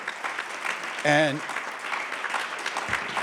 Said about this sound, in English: I'm glad you gave yourself a round of applause